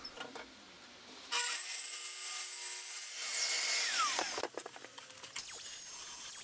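Track saw trimming the edges off a dry glued-up wood panel, a loud sustained whine and cutting roar that runs for about three seconds before winding down, with lighter workshop rattles afterward and no talking.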